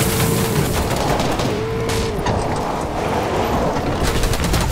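Sustained rapid gunfire from a video game fills the whole stretch, dense, loud and continuous, like a close firefight during a duo tournament endgame.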